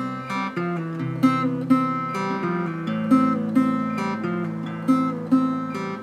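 Acoustic guitar plays a song, a steady sequence of plucked chords and picked notes with regular strummed accents, close and clear, with no voice.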